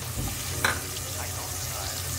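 Popcorn kernels sizzle in melted butter in a pot, a steady close frying hiss with a single brief scraping stir partway through.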